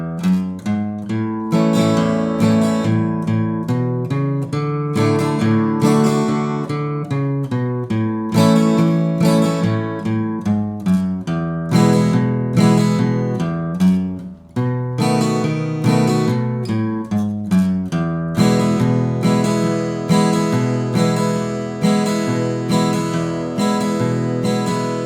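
Acoustic guitar strums a song in a steady boom-chukka pattern, alternating bass notes with chord strums, lively and continuous throughout with no voice.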